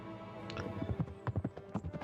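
A horse trots in a video game, its hooves clip-clopping in an uneven run of quick dull thuds that sound fairly close.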